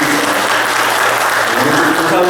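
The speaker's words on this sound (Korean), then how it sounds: "우리 교사분들 우리 한번 박수 한번 좀 보내줬으면 좋겠어요" A church congregation applauds its teachers during a Sunday service at a Korean church, a dense, steady wash of clapping filling the room, loud and continuous throughout.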